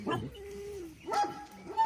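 A few short dog barks and yips, fairly close and moderately loud, with a whine-like tone drawn out between them.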